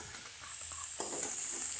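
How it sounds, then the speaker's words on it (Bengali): Meat curry with turmeric being stirred in a hot pan, a soft continuous sizzle with light scraping as the spoon moves, close and quiet, over a brief span. "খুব ভালো করে নেড়ে নিতে হবে"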